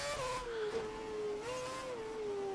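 A Formula One car in the F1 2011 video game braking hard into Luffield at the British race weekend, its engine note a steady whine that dips as it slows, then rises again and settles.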